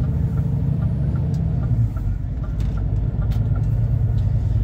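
A Scania R450 lorry engine drones steadily from the cab while driving, a constant low rumble with faint higher rattles and clicks above it.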